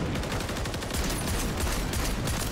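Dense, continuous burst of gunfire from a Modern Warfare 3 video game weapon set to semi-auto, loud and sustained with rapid overlapping shots and no talk.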